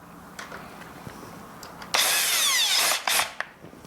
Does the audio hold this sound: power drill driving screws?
yes